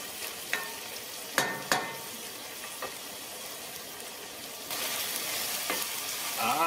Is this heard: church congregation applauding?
no